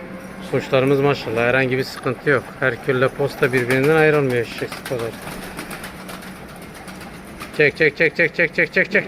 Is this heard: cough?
no